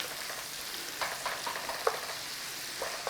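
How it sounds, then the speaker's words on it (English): Onions frying gently in a pan, a soft steady sizzle with a few light scraping stirs, close and fairly quiet, no voices. "we just want a little fry on the onions"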